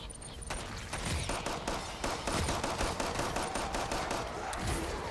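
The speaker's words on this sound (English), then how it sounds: "I'm going to switch over to my pistol at this point." Rapid gunfire in Killing Floor 2, a string of sharp, loud shots fired in quick succession over a busy game background, continuing steadily throughout.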